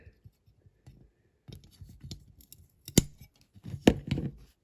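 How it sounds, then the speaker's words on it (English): Scissors trim a small part for a die-cast Corgi Mercedes ambulance model being converted into a banger racing car, giving several close, crisp snips and rustles in a quiet room. "So just need to trim it down a bit"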